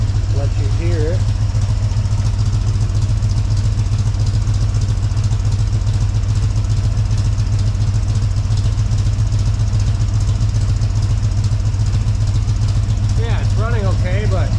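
A car engine idles with a steady low rumble throughout, loud and close, exhaust not fully assembled, while a person talks briefly near the start and end.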